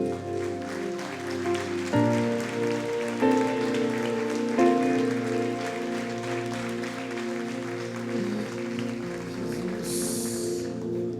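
A church congregation at a Lagoinha worship service in Sete Lagoas claps together in a steady, dense patter that runs beneath sustained worship music, with no talking.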